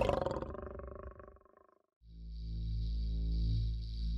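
An African lion roaring, a deep rumbling grunt-roar that fades into silence, followed by a low sustained growling rumble.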